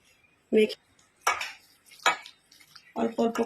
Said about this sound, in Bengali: জল দিয়ে মেখে নিচ্ছি বেসনটা